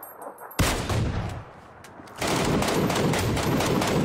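Gunfire rings out in a shooter video game, an opening sharp burst followed by rapid bursts of automatic fire that turn into a dense, continuous volley, loud and close, with no voices.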